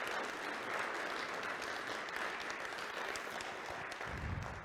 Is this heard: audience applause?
yes